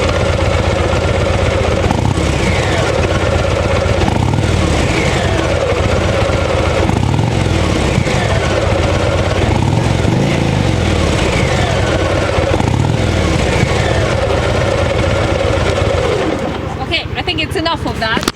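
A Harley-Davidson Street Bob 117 motorcycle with custom exhaust pipes runs loud and close, a steady heavy engine rumble with rhythmic swells in its throb that fades slightly at the end.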